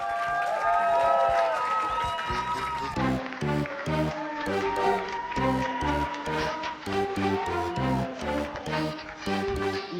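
An audience claps in steady rhythmic unison at a lively Minneapolis event, loud and close, with music and a few voices over the beat.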